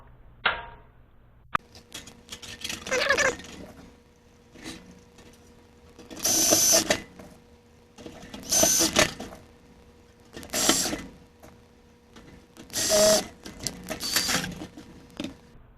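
Screws being driven into a tin firestop panel for a Case IH 8240 combine on a bench, several short bursts of a power driver whirring, spaced a couple of seconds apart with quiet gaps and small clicks between.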